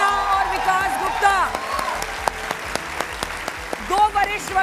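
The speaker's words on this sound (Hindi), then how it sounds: "तालियों के साथ स्वागत कीजिए अमिताभ सिन्हा और विकास गुप्ता।" A crowd claps steadily, a brisk burst of applause with sharp individual claps, while a voice talks over it.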